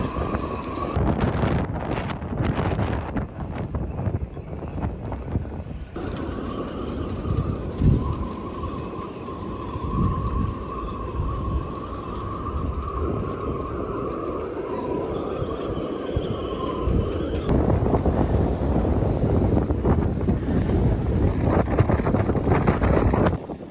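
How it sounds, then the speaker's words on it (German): Strong wind gusts buffet a harbour marina where boats are sheltering, a continuous roaring rush with steady low rumble, pigeons cooing faintly in the background and a brief whistling tone midway. "Die Hintergrund ist ein bisschen Wind."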